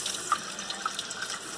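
Water running from a sink faucet that is being closed after a noisy-tap repair, a steady close hiss of flowing water with a few faint squeaks or drips, no voices.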